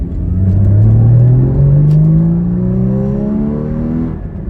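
A Porsche Cayman 981 engine pulls up to 4,500 RPM, its intake noise rising as a loud, steadily climbing drone with layered harmonics, close and alone before easing off at the end.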